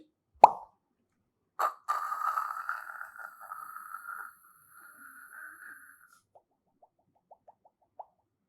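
A mouth-made imitation of a soda bottle being opened: one sharp lip pop, then a second pop, then a long fizzing hiss that fades, with a few small clicks trailing after.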